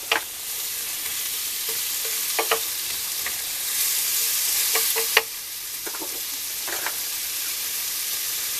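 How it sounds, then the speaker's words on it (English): Onions fry in coconut oil with a bright, steady sizzle close by, broken by several sharp scraping knocks as a utensil stirs them around the pan. "I add the onions first. Get them stirred up. By the way, this is done all in coconut oil."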